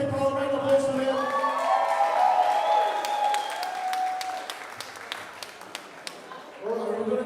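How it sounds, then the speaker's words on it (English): A crowd at the TSF Team Champs 2024 tournament claps and whoops loudly for several seconds. The sound then thins to scattered claps before a voice returns near the end. "Round of applause for them."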